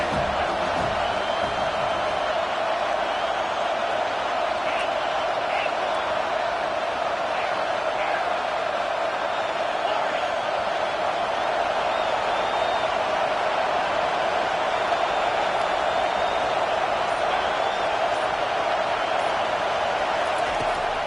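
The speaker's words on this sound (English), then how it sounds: "This crowd rising up, sensing that its defense needs some help." A college football stadium crowd roars in a steady, dense wash of cheering and whooping for the home defense in a game against Utah, sustained and loud with commentary voices mixed in.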